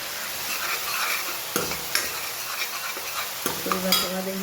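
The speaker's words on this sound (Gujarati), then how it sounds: "2 મોટી સાઈઝની ડુંગળી લઈ લીધી છે એને થઈ જાય છે આછી ગુલાબી થાય ત્યાં સુધી સોતે કરી લેવાની છે" Two large chopped onions sauté in a pan for chole, a steady close sizzle with a spoon stirring and occasionally scraping or clinking against the pan.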